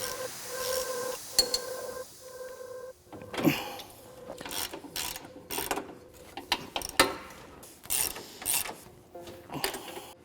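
Hub bolts on a motorcycle being tightened with a hand ratchet, giving short bursts of clicking and metallic rattling with brief pauses between them, close and fairly quiet.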